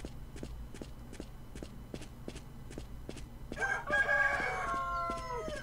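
A rooster crows loudly in the mobile shooter game Point Blank: Strike. Its drawn-out cock-a-doodle-doo follows a run of steady, rhythmic footsteps, which keep tapping underneath.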